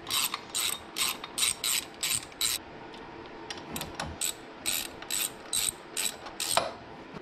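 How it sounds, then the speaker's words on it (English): A ratchet bolts a J37 throttle adapter onto a supercharger, with a rapid, steady series of close metallic clicks in rhythmic strokes and brief pauses between runs. "I'm basically just gonna bolt it on as if it was a throttle."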